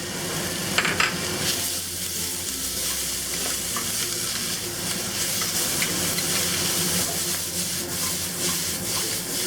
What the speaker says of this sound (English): Toss this for about 30 seconds until the onions soften up.